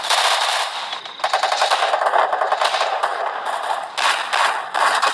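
Machine gun fire on a video game training ground, rapid loud automatic bursts that run almost continuously, with short pauses between strings of shots and no talking over them.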